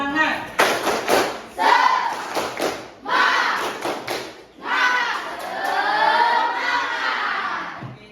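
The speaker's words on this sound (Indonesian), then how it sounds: "Tepuk semangat." A classroom of students performs a rhythmic spirit clap, sharp clustered claps in patterned bursts mixed with loud chanted group voices, close and energetic, with pauses between phrases.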